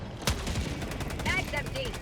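Weapon fire in Helldivers 2 cracks out in one loud, sharp shot, followed by warbling electronic game tones and rumbling background effects.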